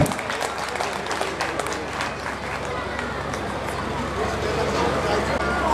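Sustained clapping from a sizable crowd, dense and steady throughout, swelling slightly toward the end.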